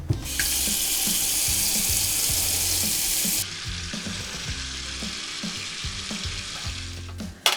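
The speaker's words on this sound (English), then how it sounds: "I put it in this big roasting pan, and then I just fill it up with cold tap water" Cold tap water gushes loudly into a big roasting pan set out to soak a cedar plank, then the stream cuts off abruptly and leaves quieter splashing and clattering behind.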